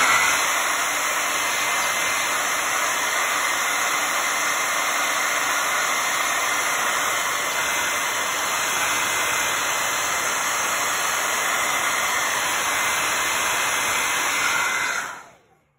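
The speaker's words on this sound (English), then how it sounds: "This one I'm going to give a quick dry right here." A hair dryer blows steadily on a damp paint brush for about fifteen seconds, a loud continuous whooshing roar that stays even throughout and then shuts off abruptly at the end.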